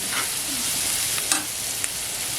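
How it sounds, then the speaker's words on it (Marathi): Finely chopped carrots sautéed in a pan for a Marathi prawn vada pav, a steady close sizzle with a few soft stirring scrapes and clicks and no talking. "गाजरी आपल्याला एक दोन मिनिट परतून घ्यायचं फक्त मिक्स होण्यापुरतं आहे"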